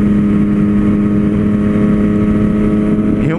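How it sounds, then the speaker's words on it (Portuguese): Yamaha MT-09 motorcycle engine revving hard under acceleration, a loud close-up harmonic roar holding steady and then sweeping upward at the end. "Tem os momentos certos aí que você consegue acelerar, curtir a potência da moto."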